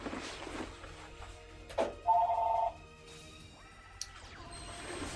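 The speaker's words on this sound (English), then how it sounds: "phone ringing" A telephone rings once with a short electronic trill, loud and close, set against soft background clatter and a few knocks, with no talking during the ring.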